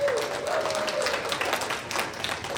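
A crowd applauds at a convention art panel, steady dense clapping throughout, with a brief voice or tone at the start and murmured talk mixed in.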